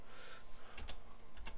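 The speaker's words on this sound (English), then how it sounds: "you can use the arrow keys to slide it over" Computer keyboard keys tap in a few quiet, separate clicks, a pair of quick presses followed by another, faint and close against soft room noise during computer graphics work.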